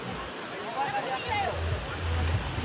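Sea surf washes onto the shore at Uncha Kotda, a steady broad roar of breaking water with a low rumble, heard under nearby talk.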